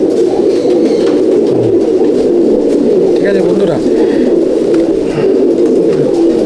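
Andhra and Madrasi pigeons coo softly in a loft at Halisahar, their low warbling calls repeating under someone speaking Bengali close by.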